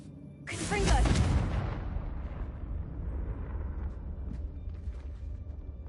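A Confringo fire-blast spell goes off in a Hogwarts video game, a sudden loud burst that swells into a booming roar and then trails into a long rumbling decay.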